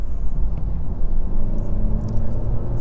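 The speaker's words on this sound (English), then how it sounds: "if I instead go to the hybrid driving mode and I floor the accelerator again" A 2024 Mercedes-Benz GLE 450e plug-in hybrid SUV accelerating hard in hybrid mode with the pedal floored, heard as a low, steady engine rumble from inside the cabin with no talking.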